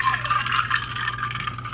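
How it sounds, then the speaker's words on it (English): Orange juice is poured into a glass for a cocktail, a short, steady, close-up splashing trickle. "Some juice, which people also asked me to tackle, so we're gonna add that into our cocktail."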